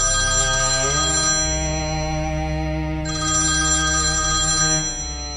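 A cell phone ringtone ringing in a movie theater, a loud electronic melody repeating in two long phrases with a brief pause between, no talking.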